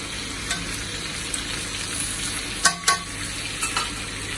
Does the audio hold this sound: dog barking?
no